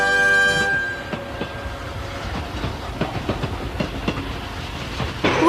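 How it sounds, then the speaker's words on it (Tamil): A train rumbles past with rhythmic clicking of wheels on rails, opening with a brief horn blast and steady rolling clatter throughout, no voices. "ஷிஷிமாருவின் ட்ரெயின் அட்டகாசங்கள்."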